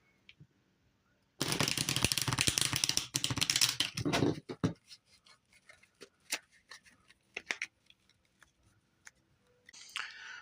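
A loud burst of heavily used Magic: The Gathering cards riffles for a few seconds, followed by scattered soft taps and clicks as the deck is squared up.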